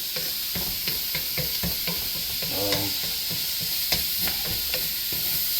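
Vegetables for beef fried rice stir-frying in a very hot pan: a steady loud sizzle with repeated scraping, clattering strokes of the utensil at an irregular rhythm, no voices.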